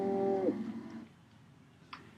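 A cow in a video game gives one loud, drawn-out moo that falls in pitch and fades, followed by quiet background and a faint click.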